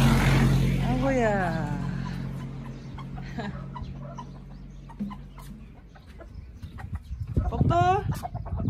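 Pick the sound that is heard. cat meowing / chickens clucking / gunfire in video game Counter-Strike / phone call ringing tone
chickens clucking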